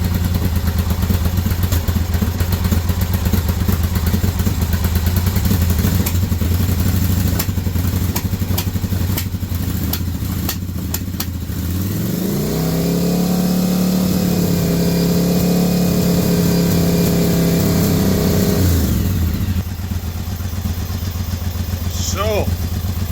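Yamaha XV1000 motorcycle engine idling roughly and unevenly, loud and close, with a steady low rumble and clattering, a brief rise in revs midway, then settling back.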